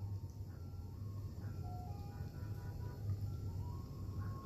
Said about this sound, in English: There's an ice cream truck in the background.